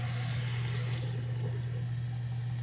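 Cold tap water running from a faucet into a sink, a steady hiss with a low constant hum underneath, close and unbroken with no talking.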